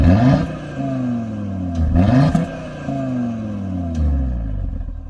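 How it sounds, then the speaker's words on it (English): Audi RSQ3 Sportback engine revving hard through its dual exhaust, three repeated rising blips that climb in pitch and fall back, loud and close with a steady idle between them. "it's actually quite a decent sounding engine"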